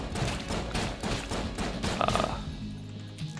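A charge-shot gun in the Enter the Gungeon shooter fires amid busy game noise, a cluttered layer of blasts and effects with a brief tonal burst partway through, fairly quiet overall.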